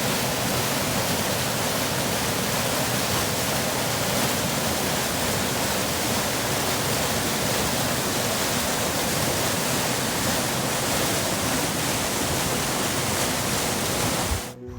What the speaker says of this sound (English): We've had a lot of wet weather this January, and so the stream has got quite wild at times.